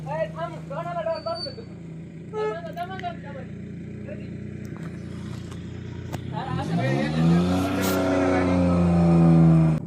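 A car pulls out of a tight parking space past a packed gateway, its engine rising from a low idle to a louder, revving drive toward the end, with voices talking over it throughout.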